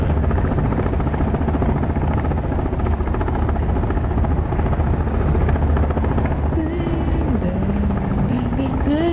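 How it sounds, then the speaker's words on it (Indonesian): A helicopter in the video game Sons of the Forest roars loudly and continuously with a steady low rotor thrum, close and unbroken throughout, with a tonal whine rising near the end. "gede banget suara helikopternya"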